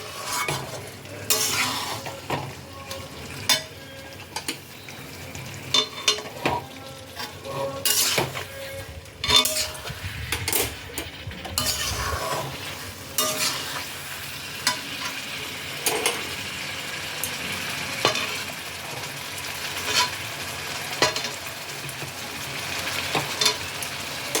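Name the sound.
stirring jackfruit and prawns with spices in a pan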